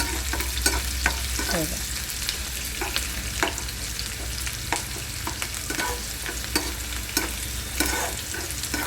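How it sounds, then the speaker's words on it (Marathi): Onion fries in oil in a pan for veg pulao, a constant crackling sizzle broken by frequent scraping and tapping of a spoon as it's stirred, close and continuous throughout. "हे पॅनमध्ये आपण तेल टाकलेलं आहे कांदा भाजायला टाकलेला आहे"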